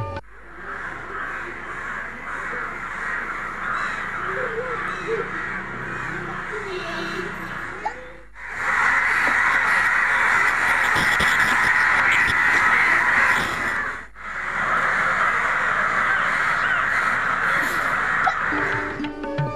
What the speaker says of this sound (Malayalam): കാക്കകൾ എത്തുന്നു, രാപ്പാർക്കുന്നു